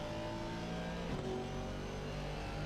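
Mercedes-AMG GT4 race car engine in a GT4 racing video game at Donington Park, a steady, loud, continuous engine drone with a brief rise in revs partway through, and no talk over it.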